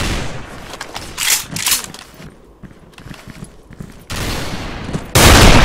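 Gunfire in the video game Special Force 2 in sniper mode: loud bursts of shots, rapid volleys and a final heavy blast, with footsteps between them.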